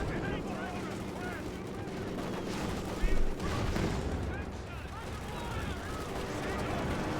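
Anti-aircraft fire in the Company of Heroes 2 strategy game rattles in dense, continuous bursts with one sharper thump midway, mixed under a commentator talking over the match.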